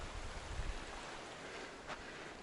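A mountain creek along the Pine Creek Pass Trail flows steadily, a continuous broadband rushing close by with a faint low rumble and no voices.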